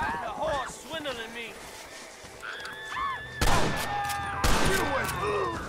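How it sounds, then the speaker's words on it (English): Gunfire in the Western video game Red Dead Redemption, a few loud sharp shots bursting out near the end, mixed with game sounds, animal calls and talk. "Shot this man dead."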